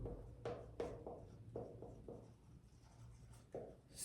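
Chalk or marker writing a line on a board during a chemistry lecture, a series of quiet scratchy strokes with pauses between them.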